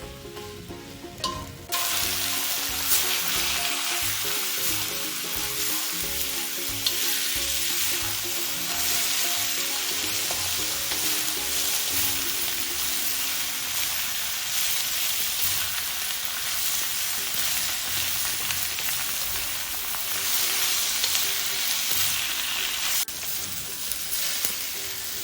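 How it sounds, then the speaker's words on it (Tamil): Mixed vegetables toss in hot oil for fried rice, sizzling loudly and continuously for a long stretch with scraping stir movements underneath and no voice. "நாங்கள் அட்லீஸ்ட் 2 மினிட்ஸ் ஆகுது வெஜிடபிளை டாஸ் பண்ணி எடுக்கணும்"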